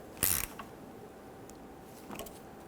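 A radiator hose clamp being snugged down on a 2006-2010 Hummer H3 with a 3.7L engine, heard as a short, loud ratcheting burst near the start and a fainter mechanical rattle about two seconds later.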